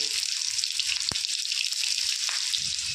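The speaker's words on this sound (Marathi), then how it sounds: "तेल गरम झालेलं आहे आता त्यामध्ये थोडी मोहरी टाकून घेऊया" Mustard seeds crackle and sizzle in hot oil in a home kitchen, a steady bright frying hiss with a couple of sharp pops standing out, close and continuous with no talking.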